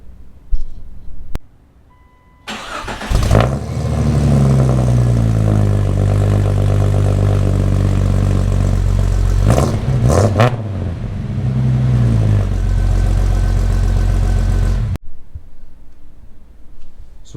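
A Jeep engine cranks and fires up, then settles into a loud, steady idle with a couple of brief revs before shutting off, heard close and alone.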